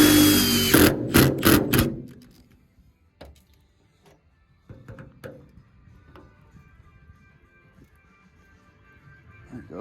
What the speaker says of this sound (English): I'm just using these lath screws. They drill into just about anything.